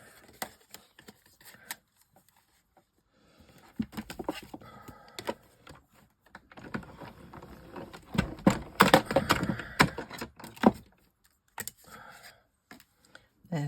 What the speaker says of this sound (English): I will cut another couple of hearts